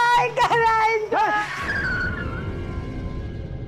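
A car brakes hard and its tires skid with a rising squeal, following voices in a Marathi drama scene; the skid smears into a noisy tail that fades over a couple of seconds.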